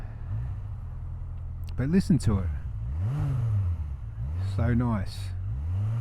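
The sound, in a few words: Yamaha XJR1300 motorcycle engine running on choke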